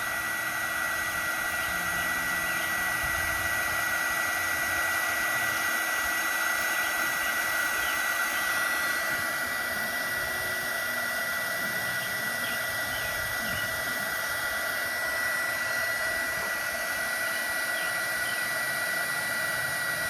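A heat gun blows on a solder sleeve over a wire splice during trailer brake work, a steady, loud airy roar with a faint whine that holds unchanged for about twenty seconds.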